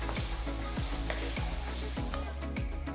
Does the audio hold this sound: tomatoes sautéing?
yes